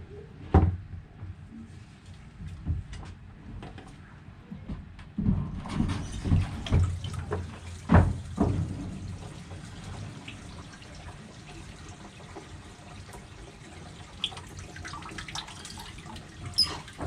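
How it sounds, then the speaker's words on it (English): Warm water runs from a tap to rinse activator off a hydro-dipped airsoft AEG, starting quiet and swelling into a steady splashing stream with scattered drips and knocks, close by and without speech. "gotta rinse it off with some warm water to get all the activator off"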